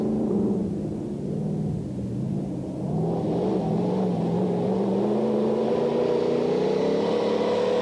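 A Range Rover rally car racing in the 1992 Pharaohs Rally Raid, its engine a loud continuous drone whose pitch slowly climbs as it accelerates, close and unbroken, with no voices.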